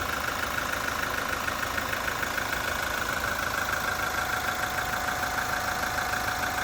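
A 2.8-litre four-cylinder turbo diesel in a 2022 Toyota Hilux idles steadily indoors in a showroom, an even, faint rumble with slight knock and no variation throughout.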